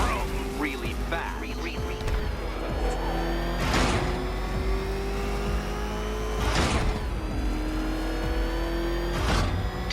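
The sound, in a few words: Batmobile engine revving and driving in Batman Arkham Knight video game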